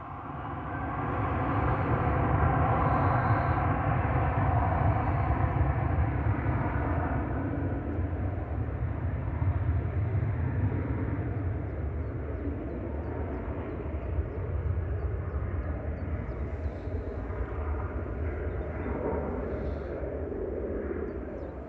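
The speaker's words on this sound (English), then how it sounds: "perhaps that Dreamliner turning" A Boeing Dreamliner turning at Manchester Airport, a broad, steady engine roar that holds loud and fairly close before easing slightly.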